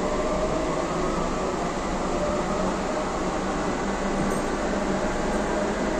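Inside a moving Kolkata metro train between Jai Hind and Noapara, with air conditioning overhead: a loud, steady rumbling roar of the carriage running on track, constant for the whole stretch with no talking.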